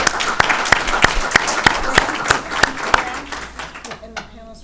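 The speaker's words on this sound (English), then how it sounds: "please join me in giving a round of applause to these panelists" A conference audience applauds the panelists after a panel on technology and foreign interference in elections, a moderately full round of clapping with sharp close claps standing out, tapering off as a voice begins speaking.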